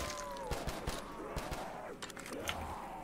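Gunfire in a zombies video game, a scatter of sharp shots and short bursts at moderate level, mixed with game effects and faint voices of players.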